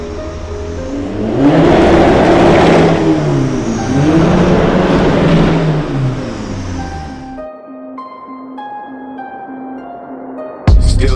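A 550 HP Audi RS4 with a 2.7 bi-turbo engine revs loudly up close in a garage, rising and falling in several sweeping pulls before cutting to a quieter idle and a sharp final click.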